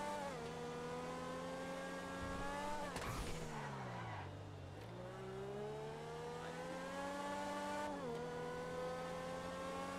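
Race car driving on a circuit in GTA, its engine a steady tonal drone that dips and rises in pitch as it shifts and accelerates, with a brief clattering burst partway through.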